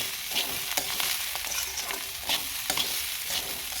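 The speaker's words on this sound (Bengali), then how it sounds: "এখন সবগুলো দিয়ে একসাথে আমি ভেজে নিয়ে চালটা" Rice fries with ginger, cumin and garlic paste for khichuri, giving a continuous sizzle with rhythmic scraping strokes from stirring in the pan.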